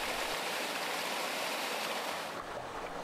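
Water rushes steadily down a narrow water chute in an oceanic ravine, a loud, constant broadband roar of splashing flow close by, with no voices.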